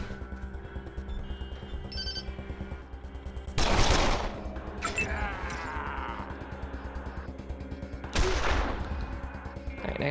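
Gunfire in the video game Wasteland 2 bursts out in two sharp loud blasts a few seconds apart over a quiet game soundscape with faint tonal blips.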